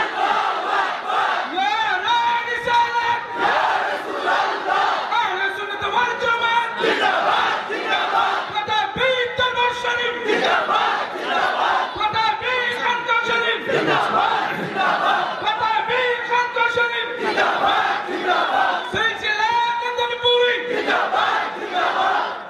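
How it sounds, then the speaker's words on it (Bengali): A large crowd at an Islamic religious mahfil in Kulaura, Bangladesh chants slogans in unison, its loud call-and-response phrases repeating in a steady rhythm for the whole stretch with no break. "স্লোগান দেন।"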